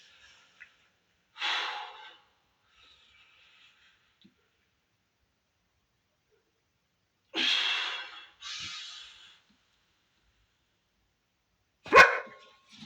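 Dogs barking indoors during a stretching session, three separate bursts: two short bark clusters early and midway, then one sharp loud bark near the end, with quiet gaps between and no talking.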